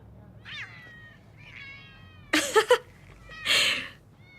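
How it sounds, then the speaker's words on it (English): Cats in a cat video meow several times: a couple of soft, thin mews followed by two louder, harsher strained yowls, with quiet room noise between and no talking. "Another cat video."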